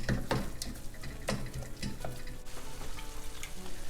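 Blended masala hits hot oil in a pan with a steady, close frying hiss and crackle, broken by a few sharper clicks and taps from stirring.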